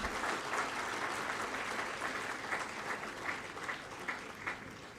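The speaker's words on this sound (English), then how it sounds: "And I think the applause should continue." Audience applause at a memorial oration in a medical college hall, continuous and moderately distant clapping that holds steady for a few seconds and tapers slightly at the end.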